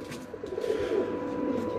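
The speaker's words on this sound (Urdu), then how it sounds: "بانکے کبوتر" Banke pigeons on a rooftop give a soft, low cooing that runs steadily through a short stretch, faint and close, with no voices over it.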